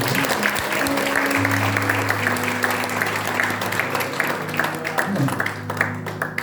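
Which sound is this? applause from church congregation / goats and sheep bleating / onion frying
applause from church congregation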